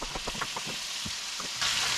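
Walleye fillets sizzling in butter in a pan, a close crackling hiss with small pops and spits, growing brighter and louder toward the end.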